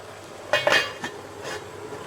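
A lid goes onto a pot of Indomie noodles cooking with vegetables, making a short metallic clatter and a lighter clink after it over a faint background hiss.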